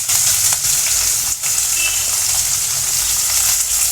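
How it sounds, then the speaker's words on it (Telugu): Four green chillies and chopped onions hit hot oil with garam masala for a gongura prawn curry, giving a loud, close, unbroken frying sizzle with one brief dip partway through. "ఇప్పుడు నూనె వేడైన తర్వాత గరం మసాలా వేసుకోవాలి. అందులో 4 పచ్చిమిర్చి, తరిగి పెట్టుకున్న ఉల్లిగడ్డలు వేసుకోవాలి."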